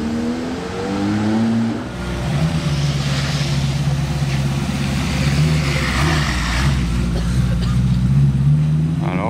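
A Porsche 992 GT3 RS passes at night, its engine a loud sustained drone that rises and falls as the car goes by, with steady road noise throughout and no talk.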